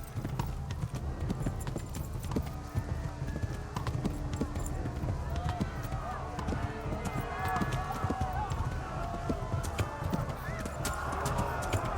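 Rapid rhythmic hoofbeats of a galloping horse in Kingdom Come: Deliverance with occasional whinnies, continuous and close, under a person talking excitedly.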